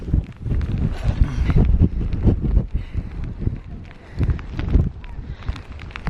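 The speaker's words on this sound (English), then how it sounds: "It's really windy and rainy." Strong wind and rain batter a wet camera on a hillside on the Isle of Skye, with loud, gusty buffeting roaring across the whole stretch, surging and easing in waves.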